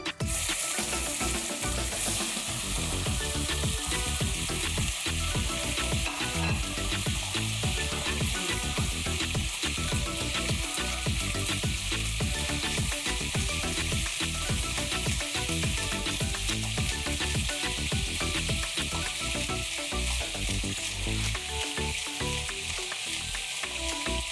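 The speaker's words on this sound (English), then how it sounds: "The oil is hot now. I'm just going to add the beef pieces." Pieces of beef fry in hot oil with a continuous dense sizzle and crackle, steady and close throughout.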